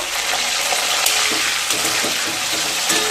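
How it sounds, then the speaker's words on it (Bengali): Cauliflower florets fry in hot oil with a lightly salted pan, giving a loud, steady sizzle and crackle that runs unbroken throughout, with faint stirring clicks. "এবার ফুলকপিগুলোকে ভেজে নেব খুব সামান্য লবণ দিয়ে দেব"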